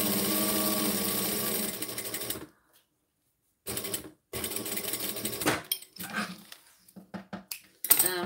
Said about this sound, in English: I've actually never sewed clear vinyl, but I see it's all the rage, so I thought I'd give it a go